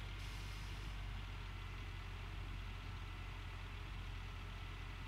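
A dump truck engine idles and rolls slowly, a loud continuous diesel rumble that holds steady throughout with no breaks.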